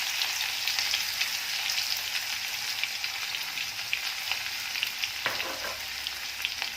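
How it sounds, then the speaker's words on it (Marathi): Finely chopped onion sautéing in a pan over a low flame, making a dense, continuous hissing sizzle with a brief stir scrape near the end. "कांदा घालून परतून घ्यायचा आहे"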